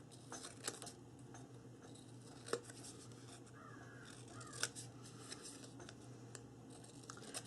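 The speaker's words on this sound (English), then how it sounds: "Now I hear the crows outside." Crows caw faintly outside beyond a shut window, a few scattered harsh calls over the steady blowing of an air conditioner indoors, with occasional small clicks and scrapes of paper crafting nearby.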